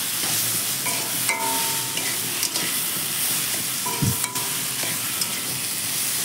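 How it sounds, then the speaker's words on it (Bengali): Banana stem and boiled lentils are stirred in a hot pan, with a continuous sizzle and fry hiss under repeated scraping strokes of a spoon. "তো আমি খুব ভালো করে নাড়াচাড়া করে নিচ্ছি।"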